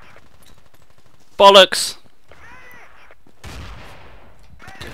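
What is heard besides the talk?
gunfire in Battlefield 2 video game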